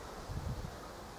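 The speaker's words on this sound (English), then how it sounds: "I hope that wind isn't ruining my video." Wind gusting outdoors across a microphone beside a shrub with red foliage, a steady low rumble with a brief stronger buffet in the middle, no talking.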